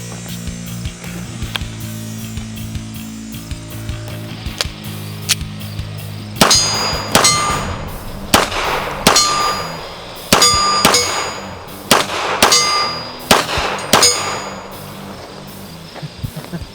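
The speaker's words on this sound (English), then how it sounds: "How about some double taps down on the gong?" Girsan Yavuz 16 Regard MC pistol double taps striking a steel gong at the range: paired shots, each followed by a loud metallic clang and ring, after a quieter stretch of scattered distant shots.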